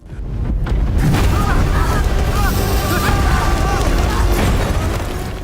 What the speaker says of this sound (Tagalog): Doon nila na-realize, hindi ito kulog, mga bomba ito.